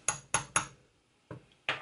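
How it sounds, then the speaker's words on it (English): A small hammer taps an indentation for a screw on a Telecaster guitar, five sharp close metallic taps: three quick ones, a pause, then two more. "a little hammer to make my indentation"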